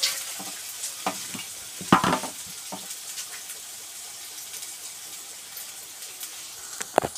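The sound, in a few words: sautéing fish curry base in pan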